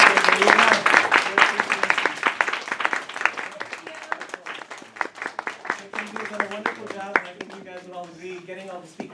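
Audience applause thanking a class organizer at a speaking event, dense and loud at the start, then thinning into scattered claps with a voice speaking over the tail end.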